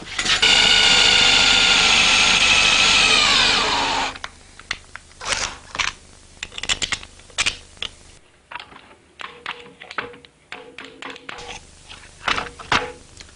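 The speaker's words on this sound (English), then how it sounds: "I think what I'm going to do next is drill the holes through there." A drill bores loudly through metal with a high, strained whine for a few seconds, followed by a series of sharp clanks and taps.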